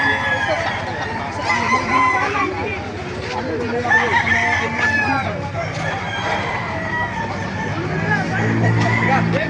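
Several roosters crow repeatedly with hens clucking nearby at a market in Baliuag, a lively, loud barnyard chorus mixed with faint background voices.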